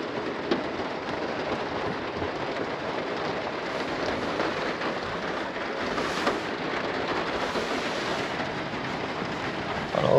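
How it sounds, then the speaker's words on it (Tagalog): Heavy rain pours steadily on a camping shelter in Camprodon, Girona, a dense continuous hiss and patter, loud and close throughout. "Lakas ng ulan."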